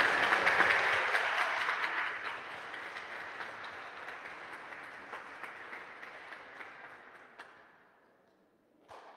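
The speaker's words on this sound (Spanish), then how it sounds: "Un buen aplauso para Enrique." Applause from a church congregation at Sunday Mass for a baby, a loud, dense burst of clapping that gradually thins and fades out over several seconds.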